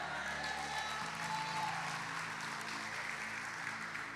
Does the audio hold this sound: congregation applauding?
yes